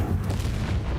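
An Incendio fire spell goes off in Hogwarts Legacy with a dense, low, roaring whoosh. It stays loud and steady for the whole second, with no break.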